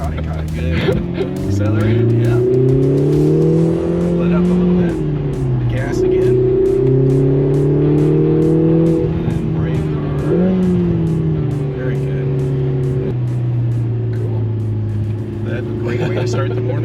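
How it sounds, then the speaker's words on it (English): A Lotus Emira sports car accelerates from inside the cabin, its engine note climbing and dropping through several gear changes in a steady loud drone, while people talk over it. "Driving a Lotus."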